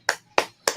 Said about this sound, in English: Everybody clap that up.